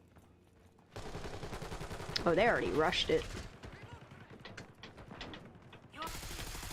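Rapid automatic gunfire from a shooter video game, sprayed in bursts through the middle of the clip and mixed with loud game effects while someone talks over it.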